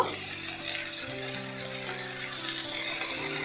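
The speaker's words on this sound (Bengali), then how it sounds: "এবার সামান্য একটু হলুদ দিয়ে দেব" Turmeric dropped into a hot frying pan while cooking kochupata chingri (prawns with taro leaves), a dense sizzle and crackle filling the whole moment with a slight stirring shift partway through, close and steady.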